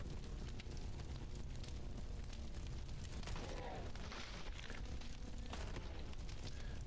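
Grenade blasts in the video game Caves of Qud roar as a continuous, rumbling wash of noise, with louder booming bursts standing out partway through.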